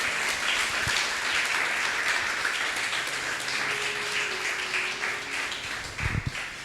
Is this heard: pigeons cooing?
no